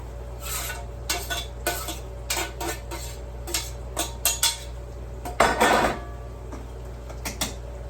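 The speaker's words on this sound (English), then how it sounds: "I'm going to put it in the pan inside here, a different pan" Cut onion tipped into a second pan on a kitchen stove, with a run of close clinks and knocks of metal utensils against the pan and a brief louder scrape and rustle as the pieces drop in, no talking.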